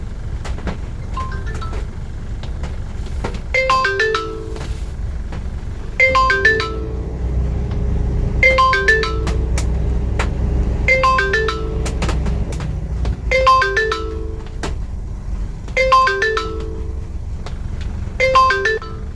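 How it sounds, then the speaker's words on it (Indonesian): Repeated electronic ringtone chiming in regular bursts, several rings over a steady low hum, as a phone rings during a call placed for a Grab ride order; loud and close, no talking. "Kita telepon orangnya."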